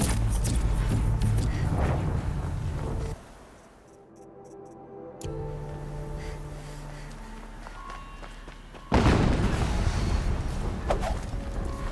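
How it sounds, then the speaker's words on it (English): Explosions in the video game Horizon Zero Dawn Remastered, a loud broadband blast that drops away into a quieter rumble before a second loud burst erupts and sustains near the end. "Another explosion."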